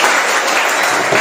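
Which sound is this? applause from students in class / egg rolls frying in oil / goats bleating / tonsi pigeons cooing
applause from students in class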